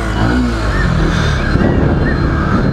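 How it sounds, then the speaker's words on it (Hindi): Yamaha FZS BS6 motorcycle exhaust drones loud and close in a short, steady burst of dense engine rumble. "तो ये इसका एग्जॉस्ट नोट है"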